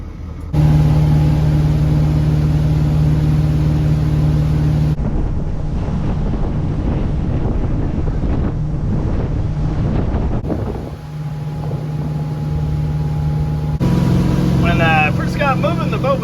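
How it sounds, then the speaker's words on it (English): A 1976 SeaRay HT240 boat engine runs with a steady, loud drone, close by and heavily buffeted by wind noise and water, the note holding throughout with a sputtering, uneven middle stretch. "Moving, the boat was stuttering and full of hate."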